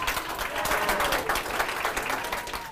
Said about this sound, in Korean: 박수 소리가 뜨겁습니다.